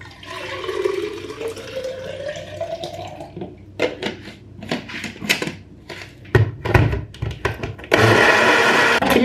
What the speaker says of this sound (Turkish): Blender'dan geçirdim ama istediğim kadar ezilmedi.